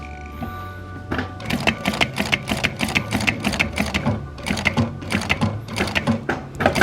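A sewing machine runs in close, loud bursts of rapid needle stitching as straight-line practice is done, stopping briefly and restarting in fast mechanical clatter with no talking.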